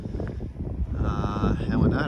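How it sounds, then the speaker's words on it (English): Strong wind gusts sweeping across an open airfield in Thunder Bay during a snowstorm, a continuous rushing blow that buffets the microphone while a person talks over it. "We've got some extremely high winds here,"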